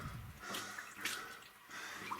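Water splashes and sloshes around a swimmer in a flooded mine in Mexico, a steady close churning with a few sharper splashes.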